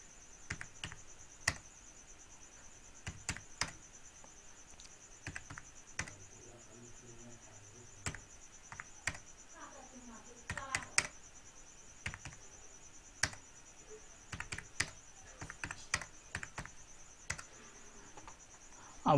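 Keystrokes on a computer keyboard while entering marks into an MS Excel sheet, sounding as sparse, uneven clicks and short bursts of taps over a steady faint high electronic whine.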